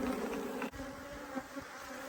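Honeybees hum at an open hive during an inspection of frames cleared of waxworms, a close, continuous droning buzz with a brief dip partway through.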